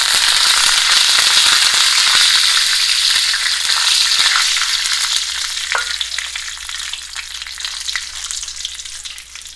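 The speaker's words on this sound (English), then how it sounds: "now I'm going to add the fresh curry leaves" Fresh curry leaves dropped into hot oil after dried chili, spattering with a loud, crackling sizzle that pops sharply at first and then slowly eases into a softer steady hiss, close up with no talk.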